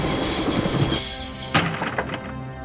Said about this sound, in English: I'd always wanted to stop the train, and now was my chance.